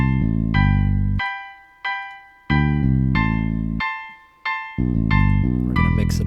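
A hip-hop beat built in FL Studio plays alone: a piano loop over a heavy bass line that punches on the downbeats, cutting off in short gaps between bars with small fills in between.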